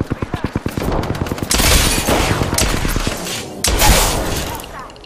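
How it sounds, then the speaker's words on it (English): Apex Legends gunfire: a rapid string of sharp automatic shots opens the clip, then louder heavy bursts and booming impacts follow close and dense, with a voice line briefly over the shooting. "Opening fire on the enemy."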